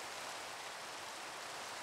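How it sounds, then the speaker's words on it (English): Steady Minecraft rain hisses as an even, faint wash of falling drops, alone with no talk. "Oh, it's raining actually."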